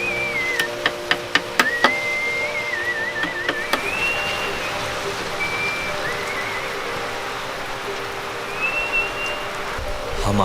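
Rain pours down steadily in Mawsynram, Meghalaya, a dense continuous hiss of drops on surfaces, with a few sharp taps early on and faint whistling tones drifting through.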